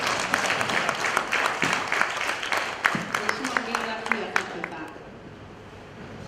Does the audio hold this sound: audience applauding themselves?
yes